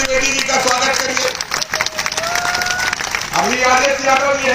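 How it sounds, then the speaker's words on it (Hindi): A rally crowd claps and cheers to welcome Dwivedi, a dense burst of applause with voices calling out and a loud public-address voice over it. "ताली बजा करके द्विवेदी जी का स्वागत करिए।"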